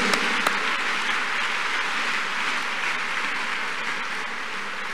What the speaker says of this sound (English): Clap your hands unto God of the choosing.